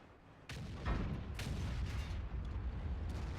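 An E100 heavy tank gun fires in World of Tanks, a sudden loud boom that rolls into a sustained rumbling roar, with a second heavy blast close behind it, all booming and near with no voices.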